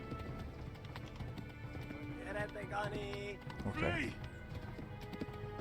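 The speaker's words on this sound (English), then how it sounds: "My horse is actually gonna run out of stamina soon" Horse hooves clip-clopping at a run in a medieval video game, a steady rhythm mixed under in-game ambience and a brief spoken word.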